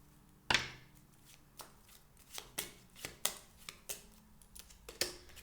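Oracle cards are shuffled by hand in short crisp riffles and slaps, a dozen or so irregular sharp flicks close to the mic against a quiet room.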